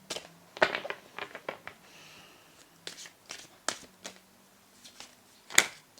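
Tarot cards being shuffled and handled at a table: soft, irregular riffles, taps and flicks, quiet and close, with brief pauses between bursts.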